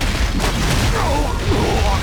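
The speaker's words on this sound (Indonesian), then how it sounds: "Wah meledak, awas." An explosion in the video game Wild Hearts produces a dense, loud burst of booming, crackling noise that fills the whole moment without letting up.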